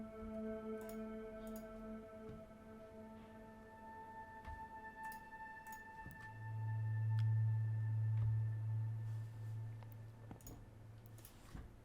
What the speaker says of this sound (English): In this preset, I'm layering 3 waveforms that sound like this.